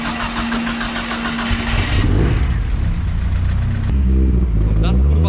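Engine of a Nissan S13 pulling away from a parked spot, a loud, steady rumbling drone that rises in pitch as the car accelerates, with someone talking over it.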